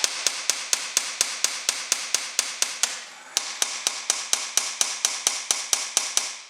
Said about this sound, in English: tapping on them welds like that right there.